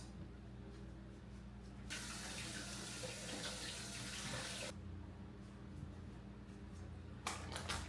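Tap water running over peppers in a kitchen sink, a steady hissing splash that starts suddenly, runs for about three seconds and then cuts off, close by, followed by faint background hum and a brief clatter at the end.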